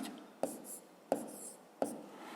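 Hand-writing numbers during a fifth-grade math exercise: three short, distinct pen or chalk strokes tap out at a steady pace, each followed by a brief scratchy trail, with no talk over them.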